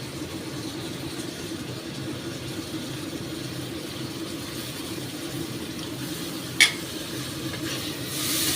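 Low, steady sizzle of eggplant frying in a pan with tomatoes and green chilli, with soft stirring and a single sharp scrape or clink near the end, no talk.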